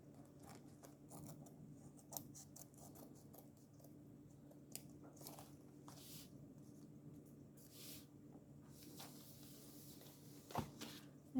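Scissors snipping paper for a handmade book cover, faint scattered cuts and rustles at close range, with a few sharper snips toward the end over a low hum.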